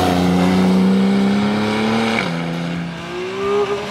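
A TechArt-modified Porsche 911 (991) with an upgraded exhaust system roars loudly up close, its engine note climbing through the revs, dropping at a gear change, then building again.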